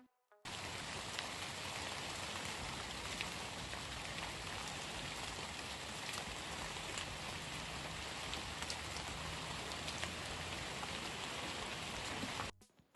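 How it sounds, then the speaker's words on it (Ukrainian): Steady rain falling, a dense even hiss of drops that starts abruptly, holds unchanged for about twelve seconds, then cuts off, fairly faint with no voices. "Давайте разом з вами уявімо, що зараз іде дощик."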